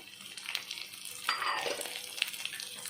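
Capsicum, broad bean and eggplant pieces are stir-fried in a pan for mixed vegetable curry, a soft close sizzle with brief scraping stirs and a sharper hiss midway.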